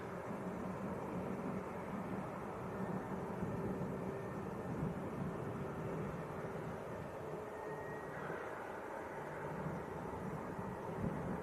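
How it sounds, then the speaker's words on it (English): A steady low jet engine rumble from a Jet2 airliner taxiing in at Leeds Bradford Airport, continuous and distant, with faint wind noise across the whole stretch. "a quick look at the other Jet2, just taxiing in"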